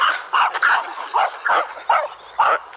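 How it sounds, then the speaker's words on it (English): Small dogs bark in a quick series of about six sharp yaps, fairly close and steady, with no other sounds around them. "Oh, the dogs are barking at me."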